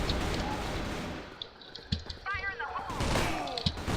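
Gunfire in the video game CrossFire, a few sharp shots and clicks on the Egypt map, mixed with game noise and busy ambience.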